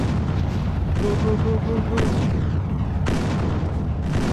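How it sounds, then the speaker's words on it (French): Fireworks in a video game burst in a rapid series of loud booms and crackles, close and overlapping, with a player speaking briefly over the explosions. "c'est des feux d'artifice."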